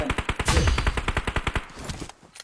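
Rapid automatic gunfire in PUBG Mobile, a loud, dense burst of about twenty evenly spaced shots lasting around two seconds, then a few scattered fainter reports.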